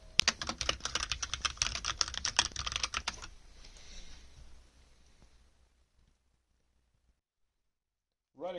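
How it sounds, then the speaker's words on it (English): Fast, dense typing on a HyperX Alloy Origins mechanical gaming keyboard with HyperX Aqua tactile switches, a close clatter of keystrokes for about three seconds that fades into scattered softer clicks, then near silence. "Right in front of us we have the HyperX Alloy Origins mechanical gaming keyboard with HyperX Aqua tactile switches."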